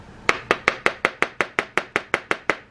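A glasses case taps a hard solid syndet shampoo bar thirteen times in quick, even succession, each tap a crisp, sharp knock that fades quickly in an otherwise quiet room.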